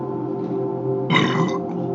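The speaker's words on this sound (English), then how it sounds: "You having to burp." A single throaty burp breaks out partway through, fairly loud and close, lasting under half a second over a steady low background hum.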